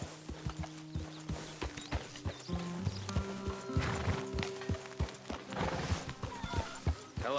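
Horse hooves clip-clop steadily at a walk in Red Dead Redemption 2, close and fairly loud, with music and faint game ambience underneath.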